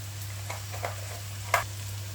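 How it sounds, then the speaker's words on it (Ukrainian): A spoon stirs bulgur with minced meat in a frying pan, with soft scraping clinks, one sharper tap of utensil on the pan, and a quiet sizzle over a steady low hum. No talking. "Тепер це все діло розмішуємо."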